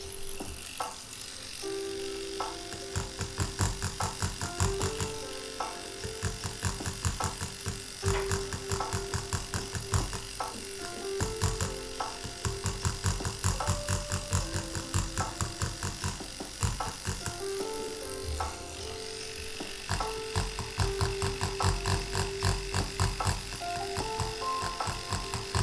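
A pen-style tattoo machine running steadily while stippling, a continuous close, loud electric buzz with rapid ticking pulses and slight shifts in pitch as the needle works, with no talk.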